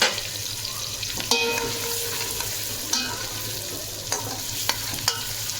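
Half a kilo of onions for beef pulao sautéing in a pan, a steady close sizzle with occasional scrapes and clinks of a stirring spoon, no voices.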